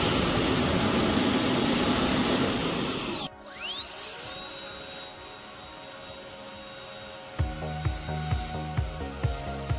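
A homemade mini jet engine used as a leaf blower roars with a high whine, briefly cuts out, then spools back up to a steady loud whistling howl, with a few sharp rhythmic clicks toward the end.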